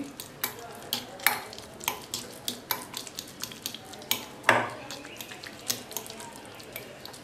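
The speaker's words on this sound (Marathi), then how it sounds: "आपण अख्खं वांग स्मॅश करून घ्यायचं आहे मस्तपैकी" Whole roasted brinjal being mashed for Khandeshi bharit, a series of sharp, irregular taps and squishy thuds from a masher or utensil against a vessel, fairly close and steady over several seconds with no talking.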